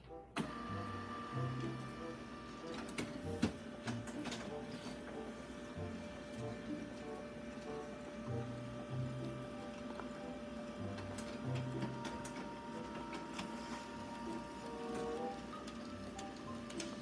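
An HP LaserJet Pro 200 Color M251N printer with a faulty intermediate transfer belt runs a print job, giving a steady mechanical hum with recurring low thumps and light ticking clicks throughout.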